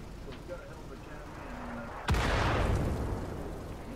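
Artillery shells from a tank game burst close to a Panzer IV S tank: a low engine hum, then one sharp, loud impact that decays into a rumbling roar, with talk over it.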